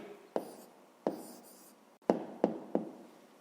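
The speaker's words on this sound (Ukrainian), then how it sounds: "Записуємо відповідь." Pen writing an answer to a fifth-grade math exercise, heard as several close scratching strokes, each opening with a sharp tap against the paper and fading quickly, with no talk.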